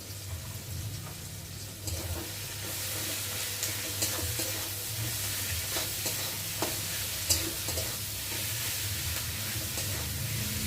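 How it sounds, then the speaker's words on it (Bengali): Spices with salt and turmeric frying in a pan for a fish dish, a continuous close sizzle broken by repeated scraping strokes of a spoon stirring, with no voices. "মশলাটা একটু ভালো ভালো করে ভেজে নেবে"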